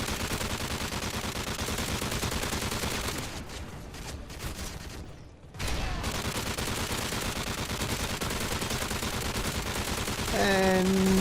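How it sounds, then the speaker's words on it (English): Dense, continuous gunfire and explosions from the video game Modern Warfare 3 in Survival Mode, loud and sustained with a brief dip midway before the barrage resumes. "Take him out old school with some flashbangs."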